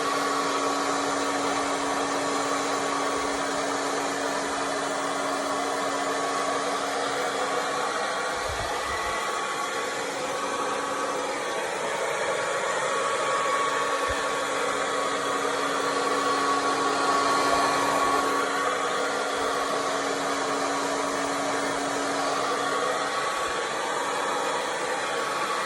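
A heat gun blows a steady, loud airy roar with a faint whine as it shrinks plastic shrink wrap, continuing without a break.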